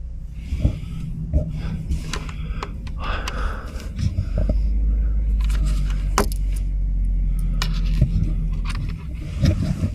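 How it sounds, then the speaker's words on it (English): A car pulls up and idles close behind a parked camper van at night, its low engine rumble steady and near, with brief rustles and clicks inside the van. "The car's just pulled up behind me."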